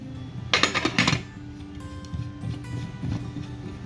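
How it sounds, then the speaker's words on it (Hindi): A pressure cooker lid being closed in a home kitchen while cooking bottle gourd with mutton, heard as a quick burst of close metallic clinks and clatter followed by quieter handling sounds. "बस अब कुकर को बंद कर देते हैं।"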